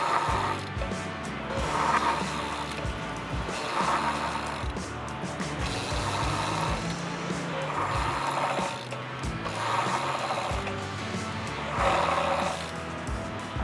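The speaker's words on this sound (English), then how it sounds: "5 to 7 rolling decelerations from 15 miles per hour down to 5 miles per hour, only using the rear brake, which is the right brake lever" A bicycle rolls along while the rear disc brake is applied in repeated decelerations, giving a rhythmic series of whooshing, grinding swells over steady road and wind noise.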